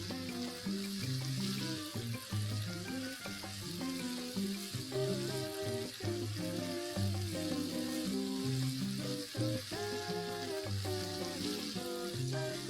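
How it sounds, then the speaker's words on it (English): Chili garlic paste fries in a wok with a continuous, even sizzle, partly masked by steady tonal music throughout, and no one speaks. "Let's cook our chili garlic paste for at least 3 to 4 minutes."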